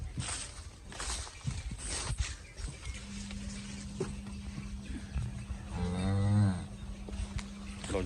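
Cholistani Friesian cross cow offered for sale, lowing in a long, loud moo near the middle, a steady low hum and scattered farmyard noise around it, with no talking.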